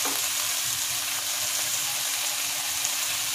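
Bori, Bengali lentil dumplings, sizzle steadily in hot oil as part of shukto preparation, a dense continuous crackle with a faint tonal hum underneath and no voices.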